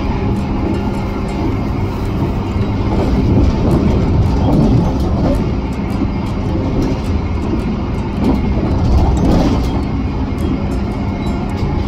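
Steady rumble and rattle inside a moving Argo Lawu express passenger train on the Solo–Jakarta run, a continuous loud low drone with faint clacks, no voices.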